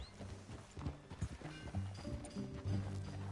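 Horse hooves in the Western video game Red Dead beat out a rhythmic clip-clop at a trot or gallop, fairly close, with a brief snort or whinny mixed in.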